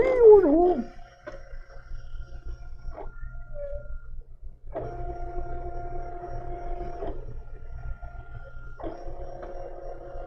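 Silhouette Cameo cutting machine at work, with a quiet motor hum under repeated bursts of steady tonal whirring as the blade carriage moves, separated by short pauses and a few faint clicks.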